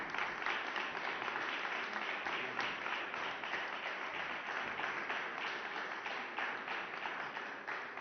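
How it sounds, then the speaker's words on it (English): Sustained applause at a press conference celebrating the signing of three loan agreements, steady dense clapping filling the room at moderate volume for the full length. "Another round of applause, please"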